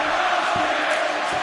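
Crowd cheering in a UFC mixed martial arts video game arena, a steady broadband roar sustained throughout with a few brief louder swells, no commentary over it.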